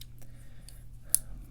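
Small spring-loaded scissors on a Roxon Storm S801S multitool being opened, a few faint light clicks ending in one sharp metallic snap, close and quiet with no talking.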